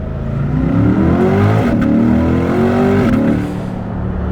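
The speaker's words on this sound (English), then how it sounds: "Let's go from first gear. Take a listen." A base-model C8 Corvette engine revs hard from first gear and climbs in pitch through the gears, a loud, sustained acceleration that eases off near the end.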